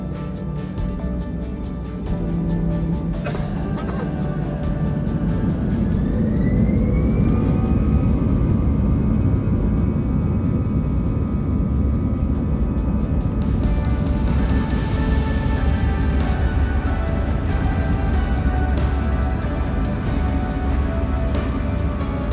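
Eurowings jet airliner taking off from Cologne, Germany, heard from inside the cabin as a loud sustained engine roar that swells after a couple of seconds, with a rising whine and steady rumble throughout, no speech.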